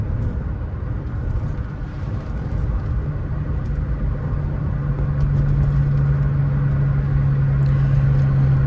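A 1991 Saab 900 Carlsson engine runs steadily close by, a low continuous rumble that swells slightly louder partway through as it settles into a firm, even drone.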